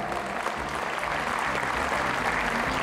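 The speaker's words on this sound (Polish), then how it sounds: "Wielkie brawa jeszcze raz." Applause from an audience at the opening ceremony of an ice arena in Tomaszów Mazowiecki, a dense, steady clapping that runs unbroken through the short moment.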